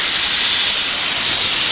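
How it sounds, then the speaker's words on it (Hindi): A pressure cooker hisses steadily in a kitchen after its whistle is loosened once the stove is switched off during desi chicken karahi cooking; the loud, continuous steam release fills the whole stretch without any voices. "जब तक इसका प्रेशर लूज़ होता है, ख़त्म होता है, और ये पिन जब तक नहीं बैठती तब तक हम वेट कर लेते हैं।"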